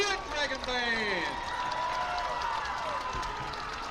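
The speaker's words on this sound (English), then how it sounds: "Let's give a big round of applause to the Red Dragon Band." Crowd at a high school football game applauding and cheering for a marching band, a mid-level wash of clapping and voices, with a public-address announcer talking over it.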